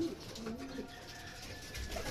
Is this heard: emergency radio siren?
no